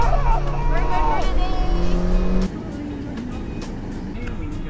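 A Honda Civic EG in a racing video game, its VTEC engine revving hard and high for about two seconds before cutting to a quieter hum, with excited talk over it.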